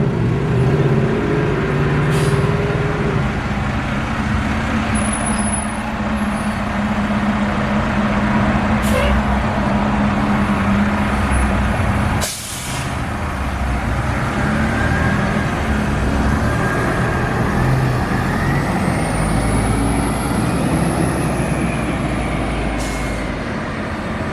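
Ex-Samtrans Gillig transit buses at a transit center, steady close diesel idling and rumbling with sharp air-brake hisses and a passing engine whine in the busy outdoor setting.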